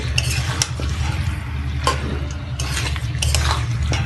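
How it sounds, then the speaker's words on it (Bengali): Chicken, potatoes and onions are stirred in a pot for a village-style chicken curry, with a low rumbling simmer under a few scraping stirs and soft clinks of the spoon against the pot. "আলু আর পেঁয়াজটিকে চিকেনের সাথে একবার ভালোভাবে মিশিয়ে নিচ্ছি"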